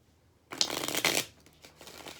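A deck of tarot-style reading cards is shuffled close up, two quick riffling bursts of crisp papery flutter followed by a softer, shorter shuffle, with no voices.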